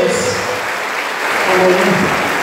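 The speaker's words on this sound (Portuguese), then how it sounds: "Então, uma salva de palmas, que bênção de Deus." Congregation applauding during a Catholic mass at a parish church, a dense steady wash of clapping from a crowd that swells slightly louder partway through, with voices mixed in underneath.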